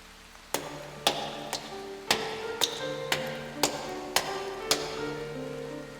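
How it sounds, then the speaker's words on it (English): Footsteps in the video game Fortnite: about nine crisp, evenly paced taps with a faint ringing tail, each step distinct against a quiet background. "I hear footsteps again."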